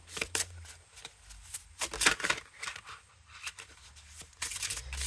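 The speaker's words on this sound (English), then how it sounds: "we're going to do now is shuffle the deck" Close-up shuffling of a tarot card deck, crisp riffling and sliding bursts coming in irregular spurts with short quiet gaps between.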